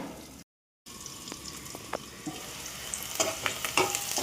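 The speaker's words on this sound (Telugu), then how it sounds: "ఆనియన్స్ ఫ్రై అవుతున్నాయి" Onions fry in a pan for a mushroom masala curry, giving a soft, continuous sizzle broken by a brief dropout and scattered clicks of stirring.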